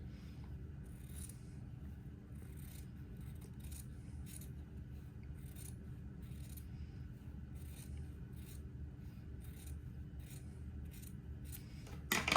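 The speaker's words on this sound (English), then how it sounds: "I need to trim the entree away, or the batiste away, from one side of the entree." Scissors snip rhythmically through fine batiste fabric, trimming it away from entredeux lace in a long run of quiet, regular cuts over a low steady hum.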